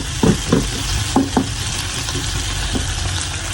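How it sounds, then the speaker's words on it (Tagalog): Tomato and onion sautéing in a pan for chicken afritada: a steady close sizzle with a few clunking stirs early on, then a continuous frying hiss. "habang ginigisa na natin po ito"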